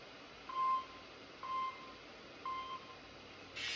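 A workout interval timer sounds three short, moderately loud electronic beeps about a second apart, each tone steady and clean over quiet room hiss.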